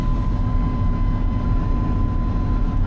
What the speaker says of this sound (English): That blower fan.